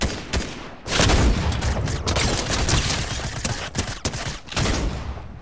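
In the video game Fortnite, a machine gun fires in long, dense bursts of rapid shots, loud and close, with brief gaps between volleys and no speech.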